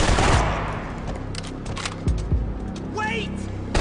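Gunfire from the video game Max Payne 3 comes in dense, rapid bursts of loud shots with booming impacts, layered under shouted game dialogue throughout.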